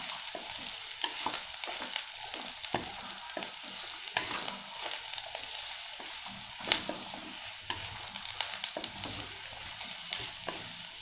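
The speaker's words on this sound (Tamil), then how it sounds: "எண்ணெய் காஞ்சிருச்சு. பாவக்காய் போட்டு வணக்கலாம்." Bitter gourd pieces fry in hot oil in a steady, close-up sizzle, with scattered sharp clicks and scrapes from stirring running throughout.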